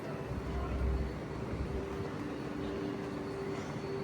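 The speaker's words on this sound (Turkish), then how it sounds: "Metroya geldim arkadaşlar." A metro train rumbles in a station, a continuous low roar with a steady hum and droning tones, moderately loud and constant throughout, with no clear speech.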